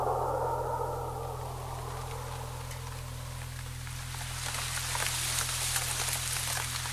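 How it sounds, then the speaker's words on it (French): Steady rain patters on a surface, a continuous hiss of drops that grows a little denser toward the end, over a low constant hum. "Il pleut."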